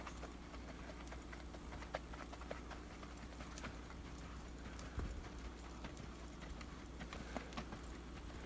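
Faint, quiet clip-clop of a horse's hooves at an unhurried trail walk under a steady background hum, with soft irregular patters in between.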